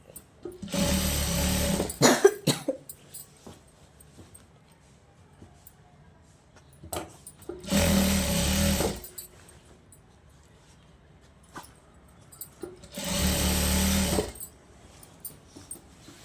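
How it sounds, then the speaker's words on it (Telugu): A sewing machine stitches a folded fabric edge in three loud, close bursts of rapid whirring, each lasting a second or two, with quiet pauses and faint handling noises between them. "ఫోల్డింగ్ చేసుకుంటూ కుట్టేసేసేయండి"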